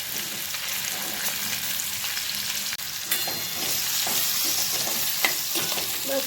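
Chopped pointed gourd hits hot oil with crackled mustard seeds, cumin and turmeric, sizzling steadily and close for several seconds with light clinks and scrapes of stirring and no talking.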